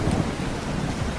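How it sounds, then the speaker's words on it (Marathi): Heavy rain pouring down at night, a dense, steady roar of drops with low rumbling underneath, loud and continuous throughout with no voices. "एका रात्री खूप जोरात पाऊस यायला लागला."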